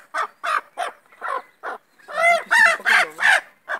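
A chicken, referred to as a rooster, calls out in a run of loud, close squawks and gobble-like honks, a few short bursts followed by longer strained cries.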